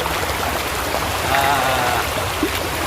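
Heavy night rain falls while water flows nearby, a dense, steady wash of rushing and trickling water at constant strength throughout.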